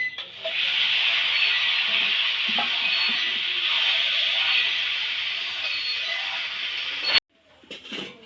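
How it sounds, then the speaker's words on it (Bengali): Meat fries with tomatoes, chopped garlic and spices in a pan, giving off a loud, continuous sizzle that holds for about seven seconds before cutting out abruptly. "তো ডাইকা দিয়ে আমি কিছুক্ষণ মাংস কষাই নেবো।"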